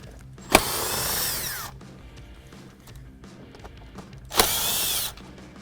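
A ratchet and 7mm socket work bolts out beside the steering wheel of a Jeep Wrangler JK, two separate bursts of fast, close clicking roughly four seconds apart, with quieter handling noise between them.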